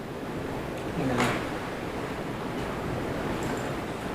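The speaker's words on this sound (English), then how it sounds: "I will apologise in advance because how madly windy it is outside today" Strong wind blows outdoors, a steady roaring buffet of noise that rumbles against the microphone the whole time, while someone speaks briefly under it.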